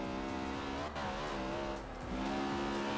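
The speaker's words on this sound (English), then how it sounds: "Killing it, my little 4-cylinder turbo" Honda Civic Type R four-cylinder turbo engine in Forza Horizon 2, revving loud and close with a strained, wavering tone, then briefly dipping and climbing again during a drift build.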